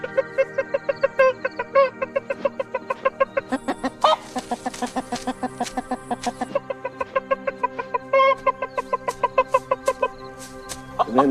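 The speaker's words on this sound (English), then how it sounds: "he lures her by making a sound when he finds a piece of grain or something" Rooster clucking in quick repeated pulses, a food call to draw a hen toward a found bit of grain, steady and close with a few sharper bursts.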